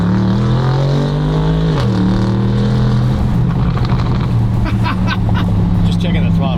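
Bentley engine with a straight-pipe exhaust and the mufflers removed, loud and close, droning and rumbling with throttle changes while a person talks over it.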